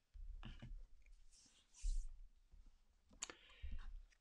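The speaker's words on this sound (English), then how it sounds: "Given the cards a good shuffle." Quick bursts of soft, crisp clicking and rustling, like a card deck being riffled, close by, with pauses between the shuffles.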